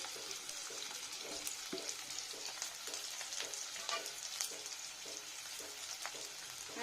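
Crushed garlic and ginger frying in a pan, a dense continuous sizzle with rhythmic scraping bursts from stirring, close and steady without speech.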